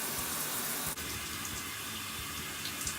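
A shower runs with steady water falling in a bathroom, a continuous broadband hiss that fills the whole stretch at an even level, with one brief dip where the flow is interrupted.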